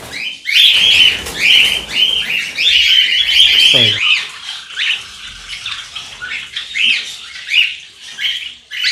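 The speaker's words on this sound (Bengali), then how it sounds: "দেখো সব ককটেল পাখির ঘর এটা" Many cockatiels in a breeding room full of cages squawk and screech in shrill, overlapping bursts, loud and close, continuing through the whole stretch with brief dips between calls.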